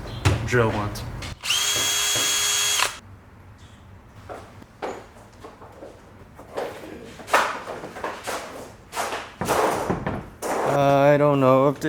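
A power drill whirs in short bursts while drilling holes into a C5 Corvette drift car, with clunks and thuds between the bursts and people talking around it.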